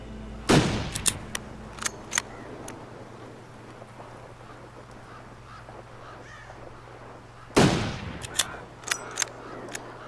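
Two rifle shots ring out in the survival video game The Long Dark, each a sharp loud crack followed by a long echoing tail, several seconds apart against a quiet background.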